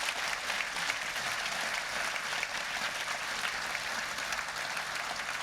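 An audience at the Edinburgh International Book Festival applauds steadily to welcome author Chris Brookmyre, a sustained, even wash of clapping from a room-sized crowd with no talk over it.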